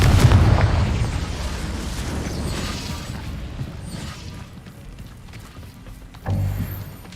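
A Confringo blast spell in Hogwarts Legacy bursts loudly at the start, its boom decaying into a rumbling tail, with a second thud near the end.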